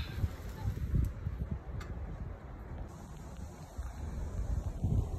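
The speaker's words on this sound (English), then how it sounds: "crazy storm out here" Storm wind buffets the microphone outdoors in gusty, uneven rushes, swelling loud near the start and again at the end, with rustling debris.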